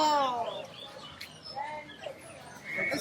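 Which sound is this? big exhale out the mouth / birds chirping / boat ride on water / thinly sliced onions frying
birds chirping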